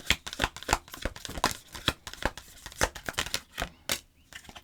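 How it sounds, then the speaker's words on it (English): Circle-shaped oracle cards being shuffled by hand, with a quick run of dry, papery riffles and slaps in uneven bursts, close and fairly loud, with no talking. "Circle cards are a little bit hard to shuffle"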